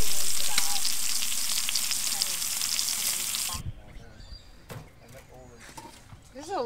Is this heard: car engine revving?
no